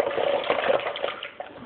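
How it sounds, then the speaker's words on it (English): Water splashing and sloshing in a container while Kool-Aid is stirred by hand, a steady close liquid churn with small gushes throughout and no talking. "Splashing around everywhere."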